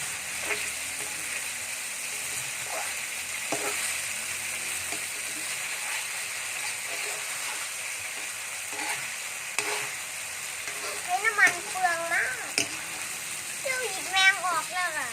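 Constant hissing sizzle of chicken breast stir-frying with oyster sauce in a hot pan, with scraping stirs and a voice chiming in toward the end.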